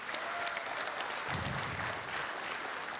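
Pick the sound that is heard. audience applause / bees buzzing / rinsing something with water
audience applause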